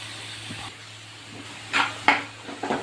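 Onion, green chili and curry leaves sizzle softly in a pan, with a faint low hiss broken by a few sharper stirring scrapes and clinks of the utensil toward the end.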